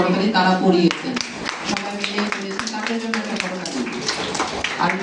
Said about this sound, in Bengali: বাচ্চাদের জন্য করতালি